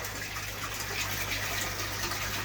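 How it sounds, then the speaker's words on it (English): Water gushes steadily into a fish tank during a water change, with a low constant hum underneath. The rushing flow stays even and moderately quiet throughout, with no talking. "Then I'm going to give these a water change."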